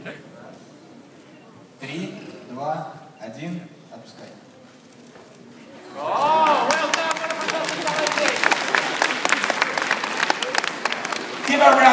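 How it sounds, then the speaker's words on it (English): At a science festival show, a presenter speaks briefly before an audience breaks into loud, dense applause that swells and holds steady, with a few sharper claps near the end. "Give her a round of applause."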